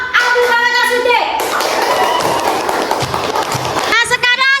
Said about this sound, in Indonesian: Tepuk tangan untuk kelompok 1, kelompok Abu Bakar As-Siddiq.